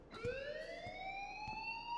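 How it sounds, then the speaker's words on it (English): An alarm ringing in the video game Life Is Strange, a loud rising electronic wail that climbs steadily in pitch, punctuated by a few sharp clicks or thumps. "Leave Miss Caulfield alone and please turn off that alarm since that's your job."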